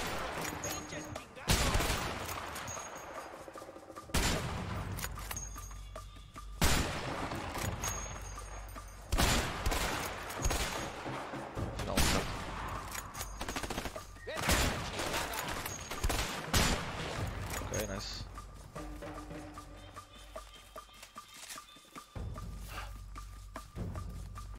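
Gunfire rings out during a shootout in the video game A Way Out, with repeated loud cracks and bursts and booming impacts over several seconds, close and intense.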